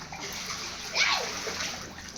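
Water splashes and sloshes as a child learns to swim in a bathtub or small pool on a hot summer day, with a brighter splash midway amid soft background voices.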